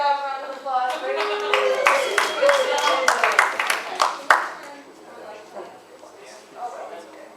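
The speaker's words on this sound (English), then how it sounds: "Good job, round of applause" A workshop audience gives a short round of applause, a burst of dense hand clapping close by that builds over a few seconds, then thins to scattered claps and fades, with voices around it.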